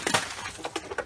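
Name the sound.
ice falling off a car hood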